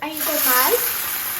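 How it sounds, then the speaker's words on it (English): Birria quesa-tacos fry on an oiled comal with a steady, close sizzle that holds for the whole moment, with a brief burst of crackle near the start. "and we're just gonna put them on our Comal. comal, and we're just gonna wait for them to cook."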